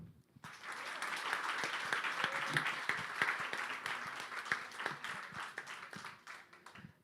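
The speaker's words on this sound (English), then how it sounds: "a big applause for everyone" Audience applause at an association general assembly, dense steady clapping from a crowd lasting several seconds before thinning out near the end.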